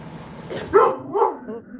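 A pet dog indoors barking at the mailman, two short close barks with a brief whine between them, over a low background murmur.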